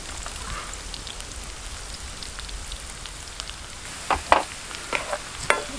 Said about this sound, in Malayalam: ഇഞ്ചിയും വെളുത്തുള്ളിയൊക്കെ ഇട്ട് അതൊന്ന് നൈസായിട്ടൊന്ന് വഴഞ്ഞു വരുമ്പോൾ